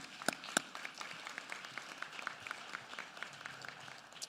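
An audience at a public education address applauds for a school district's academic gains, with two sharp claps close by at the start and then faint, thin, scattered clapping that continues throughout.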